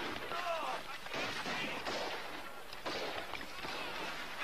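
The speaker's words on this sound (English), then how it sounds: "permission to go to the sound of the firing" Battle gunfire from a 1991 TV movie about a frontier war, a steady crackle of distant rifle shots and rumbling volleys that keeps going under someone shouting.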